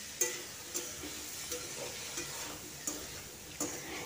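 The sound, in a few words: frying banana flower with cumin and turmeric in pan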